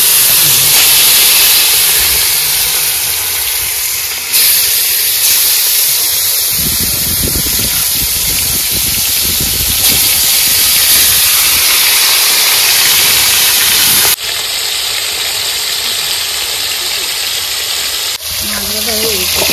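Fish dropped into hot oil in a home kitchen, a loud continuous hissing sizzle that swells and stays steady throughout, with brief shifts as the pieces settle.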